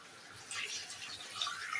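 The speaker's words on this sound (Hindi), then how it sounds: "इसमें मैं पानी ऐड करूंगी।" Water pours into a cooking pot of beef bong and paye stew in a home kitchen, a short splashing, trickling stream that swells after half a second and carries on to the end.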